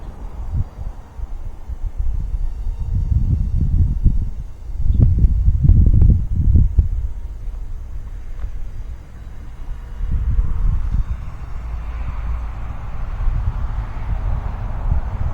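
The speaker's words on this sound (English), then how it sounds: "Yes, she's real windy." Strong wind buffeting a Ranger Stunt 600 outdoors, with loud rumbling gusts swelling and fading in low booming surges over a steady blustery roar.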